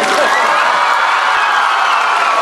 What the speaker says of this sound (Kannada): ಪ್ರದೀಪ್ ಅವರಿಗೆ ಒಂದು ಜೋರಾಗಿ ಚಪ್ಪಾಳೆ ತಟ್ಬಿಡಿ.